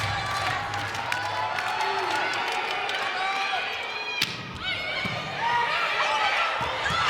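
A volleyball arena crowd roars and cheers through a tense fifth set, a dense steady wash of voices with a sharp slam-like hit near the middle, while commentators talk over it.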